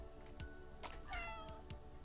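Cat meowing in the Animal Shelter Simulator video game: a single drawn-out, tonal meow in the middle, set over steady game background sound with a few soft clicks around it.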